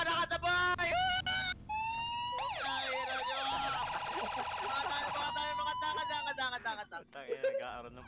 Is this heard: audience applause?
no